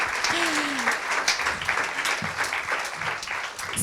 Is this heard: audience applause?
yes